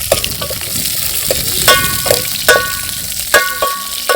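Vegetables sizzle and fry in oil in a pot set over an open fire in a farm field, a steady close crackle broken by several sharper metallic clinks of stirring.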